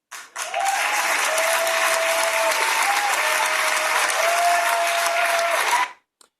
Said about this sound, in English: Now, he's getting applause from everybody because they want to identify with that.